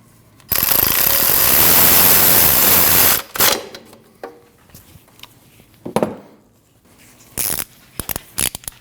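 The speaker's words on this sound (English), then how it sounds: "And tighten the bolt." A bolt is tightened on the alternator of a 2012-2021 Nissan NV2500 5.6L V8, giving a loud, close, continuous mechanical rattle for about three seconds, then scattered short clanks and clicks.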